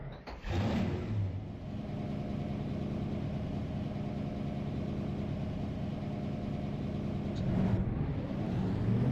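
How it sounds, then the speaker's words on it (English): Stock car engines in the NASCAR Racing 2003 video game, set at Indianapolis, crank and fire up, then settle into a dense, steady idle from the whole field that rises slightly near the end. "Drivers, start your engine."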